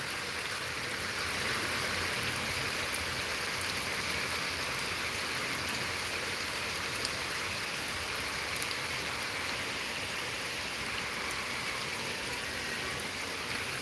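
Heavy rain falls in a dense, unbroken hiss that stays steady and fairly loud throughout, with no voices or other sounds breaking through.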